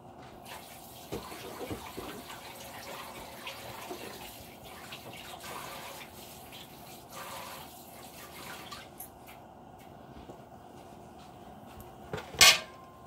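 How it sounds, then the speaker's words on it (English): A kitchen tap runs while hands are washed, a low steady water wash with small splashes and clatters throughout, ending in a sharper knock near the finish. "Let me go wash my hands"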